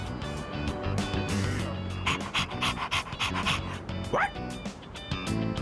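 A dog in Persona 3 Reload pants rapidly and steadily up close, with a brief whimpering yip partway through, over a soft game music background.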